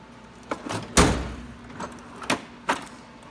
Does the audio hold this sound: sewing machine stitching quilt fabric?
no